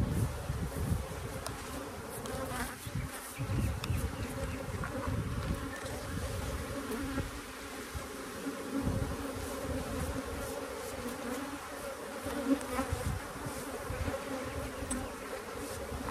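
Honey bees hum densely around an opened hive full of honey and capped comb, a steady close buzz with individual bees flying past the microphone throughout.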